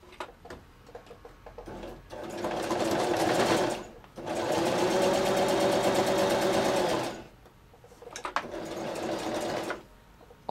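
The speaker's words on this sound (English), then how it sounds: "just to run it through your sewing machine" A sewing machine runs a seam closed in bursts: a rapid, steady mechanical stitching whir for a couple of seconds, a brief pause, a longer run of about three seconds, then a shorter final burst, close and loud.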